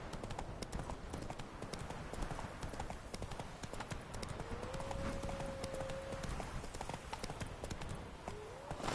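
Hooves of a horse galloping in The Witcher 3 video game, a rapid continuous clip-clop rhythm with a brief whinny-like tone partway through, under a steady game background and no speech.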